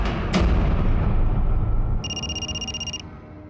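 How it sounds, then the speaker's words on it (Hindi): An electronic landline ring trills for about a second, following a loud thud and rumbling noise that fades beforehand. "तुम्हारा फोन बज रहा है, लैंडलाइन से"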